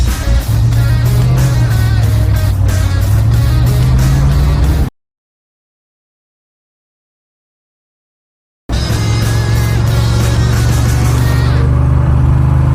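A car engine on a Pontiac T-37 or Jaguar XJ12 project runs and revs loudly up close, a rough, pulsing idle and rev in two bursts separated by several seconds of silence.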